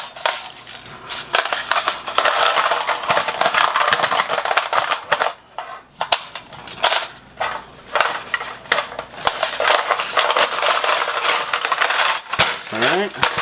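Steel rifle magazines are dropped one after another into a small Blue Force Gear Ten Speed dump pouch, giving a dense run of close metallic clatters, scrapes and rustles of fabric with brief pauses between drops.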